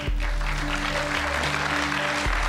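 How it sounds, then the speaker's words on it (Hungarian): A studio audience at a Hungarian TV game show breaks into sustained applause, a broad, even wash of clapping over a low steady hum from the studio. "Ez tapsot érdemel"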